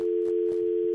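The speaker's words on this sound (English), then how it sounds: "We got a dial tone." A steady, continuous telephone dial tone hums throughout on a radio call-in line, loud and unbroken, with faint background clicks and no talking.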